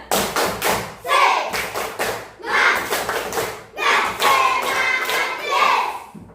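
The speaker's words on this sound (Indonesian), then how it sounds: "Tepuk semangat." Children in a classroom perform the rhythmic 'tepuk semangat' clapping chant, sharp patterned claps in short bursts alternating with chanted voices, loud and close.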